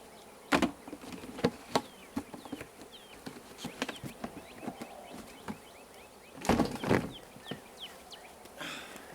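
Bees buzz around a hive during an outdoor installation, with faint intermittent droning passes close by, louder bursts near the middle and end, and soft background chirping.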